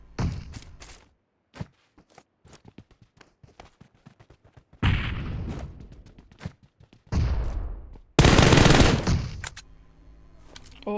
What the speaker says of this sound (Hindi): थोड़ा सा उनको डराया, प्री फायर वगैरह दी।